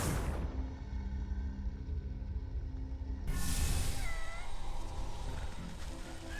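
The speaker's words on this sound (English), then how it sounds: "Oh, these cats." Cats meow in the video game Wytchwood. A drawn-out, wavering meow rises over a steady game ambience and low rumble, close and fairly loud, with no talk.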